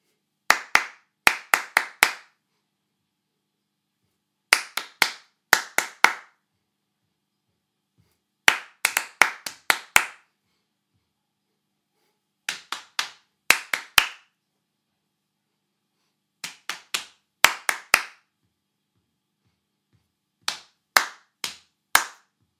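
Sharp hand claps ring out in short rhythmic bursts of three to five, separated by pauses of silence, crisp and close with no other sound around them.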